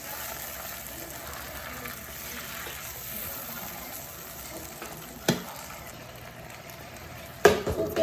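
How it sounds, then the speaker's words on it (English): Sautéed bitter gourd simmering and reducing in a pan, a quiet continuous bubbling sizzle, with a sharp utensil tap midway and a louder scraping clatter near the end. "Simmering, I'm going to let it reduce."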